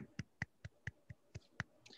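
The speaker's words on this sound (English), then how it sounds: "Golf clap." Soft golf clap: eight slow, evenly spaced light hand claps, quiet and close, with no talking over them.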